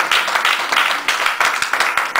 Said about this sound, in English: Give God a great big hand of applause.